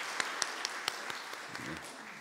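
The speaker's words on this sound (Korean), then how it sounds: "큰 박수로 환영하겠습니다." Scattered, faint claps ring out from a church congregation welcoming a new worker during a Sunday service, a handful of distinct sharp hand claps spaced apart, with a voice briefly heard near the end.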